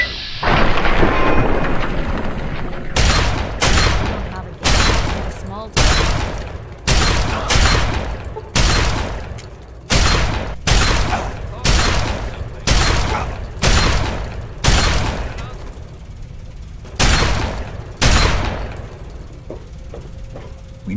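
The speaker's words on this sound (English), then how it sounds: "Opening fire." Heavy repeated gunfire in Fallout 3: about fifteen loud, close shots or short bursts in an irregular steady rhythm, after an opening rumble, with no talk.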